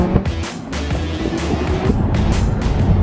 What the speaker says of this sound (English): You can really hear the way this V10 sounds.